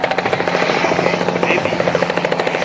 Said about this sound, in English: the chopper carrying the injured MPs